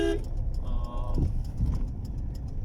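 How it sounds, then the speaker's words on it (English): A 2006 Tata Indigo TDI diesel car rolls along with a steady engine rumble, then a brief low thud and clunk as the wheels hit a pothole, with a faint rattle afterward. "that was a pothole, and you heard it right"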